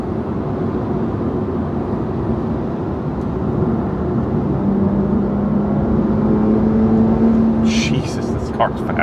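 A BMW M2 CS fitted with a Carbahn Stage 2 piggyback tune accelerates hard from inside the cabin, a loud steady engine drone with a rising tone that climbs through the gears, ending with faint clicks.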